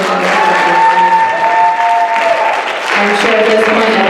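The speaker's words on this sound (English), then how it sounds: "So let's give them another round of applause." Loud, dense applause from a crowd cheering talent show performers at the Mr Alice 2025 event. It fills the room continuously, with sustained tones of voices or music riding over the clapping.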